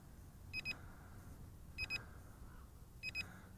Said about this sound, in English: It has that annoying beep, beep, beep.